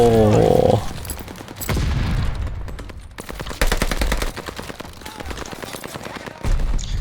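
Loud, close gunfire from the Call of Duty: Vanguard multiplayer preseason comes in rapid automatic bursts and single shots, with short gaps between exchanges.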